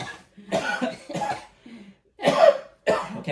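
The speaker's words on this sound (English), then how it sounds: "cough from here. Cough." A person coughs several times in short, harsh bursts with brief pauses between them, close and fairly loud, with a throat-clearing quality.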